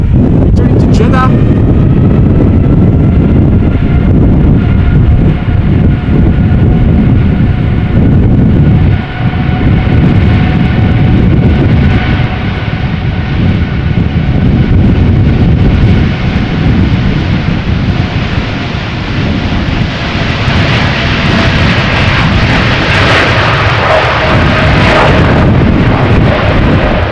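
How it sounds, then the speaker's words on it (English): A Saudia Boeing 787 Dreamliner takes off at Amsterdam Schiphol Airport during a storm, its engine roar loud and sustained throughout, mixed with heavy wind buffeting on the microphone while a voice talks over it. "Looks like the Saudia Dreamliner is taking off right now."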